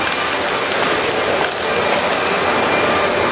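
Steady airplane cabin noise during a flight, a loud, even broadband roar of engines and airflow that holds constant throughout with no talk.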